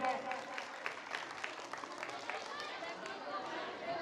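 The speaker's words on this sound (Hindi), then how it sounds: "तो इन बच्चों के लिए एक बार जोरदार तालियां बजाएं" Audience applause at an M P Jain Secondary School annual function, steady dense clapping from a crowd lasting several seconds, with voices chattering underneath.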